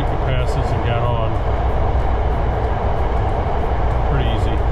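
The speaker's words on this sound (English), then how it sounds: "This train ride's not very long." Passengers ride a short local train in Kyoto, Japan, with a loud, steady rumble of the carriage throughout and brief higher squeals and tones from the wheels or cabin at moments.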